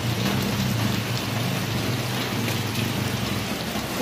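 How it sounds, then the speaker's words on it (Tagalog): Heavy rain falls hard in the afternoon near a school stage, a loud, dense, unbroken roar of drops with low rumbling underneath. "So, ayan, grabe ang ulan."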